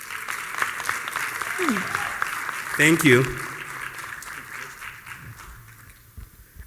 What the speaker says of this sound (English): Another hand clap for George